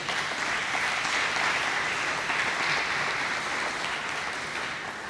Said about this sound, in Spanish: Dan un aplauso a Jesús